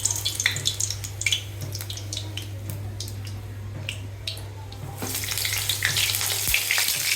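Vegetable rolls fry in hot oil in a kadai, a continuous crackling sizzle with scattered sharp pops, growing louder and denser near the end over a low steady hum.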